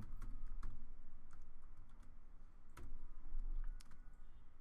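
Code for a WordPress theme being typed on a computer keyboard, with close, steady keystrokes in short irregular bursts and a few sharper taps.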